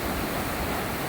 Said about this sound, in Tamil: அருவி ஊற்றுறதுக்கு சாரல் மழையும் பெய்யுது